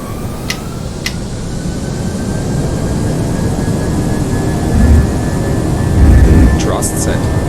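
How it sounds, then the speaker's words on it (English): Jet engines of an Airbus A320 spool up for takeoff in the Prepar3D flight simulator, producing a loud, steady roar that swells gradually, with a faint whine rising above it. "Runway 29er, cleared for takeoff."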